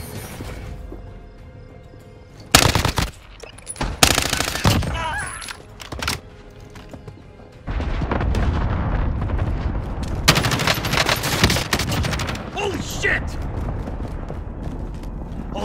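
Rapid bursts of automatic gunfire in Call of Duty Modern Warfare, loud clustered volleys separated by quieter stretches, with in-game radio voices and chatter underneath.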